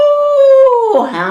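A voice imitates a hound dog baying, one long sustained howl that slides down in pitch before breaking into a rougher yelp at the end, loud and close.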